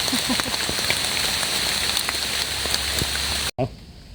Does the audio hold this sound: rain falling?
yes